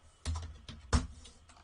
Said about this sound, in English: I'm literally typing this out